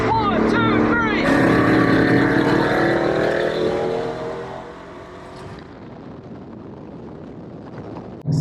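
A stock 2021 Ford F150 truck accelerating hard in a drag race, its engine roaring loud and rising in pitch through the run before fading into the distance, with voices shouting nearby at the start.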